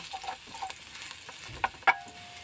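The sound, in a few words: garlic frying in a hot pan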